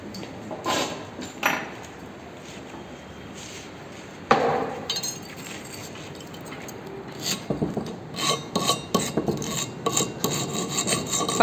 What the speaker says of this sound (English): Filing is done to finish the drilled portion.